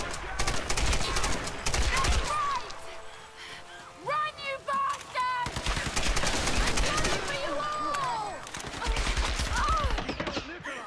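Grenade launcher fire in Tomb Raider (2013) gameplay during an escape from a burning palace, with repeated sharp shots and blasts layered over game music and effects, some talk mixed in.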